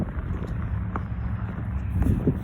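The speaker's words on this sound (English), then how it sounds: "so the winds are gusting here." Gusting west wind during a high windstorm outdoors, a constant rumbling buffet against the microphone with surges and low roar, no voices.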